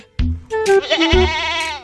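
A single goat bleats loudly and close by, a wavering, nasal cry lasting over a second.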